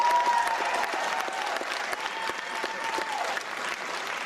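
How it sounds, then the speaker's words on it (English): Sustained audience applause for a film director at a live screening event, steady dense clapping throughout with no speech over it. "Let's hear it for Paul Morrissey."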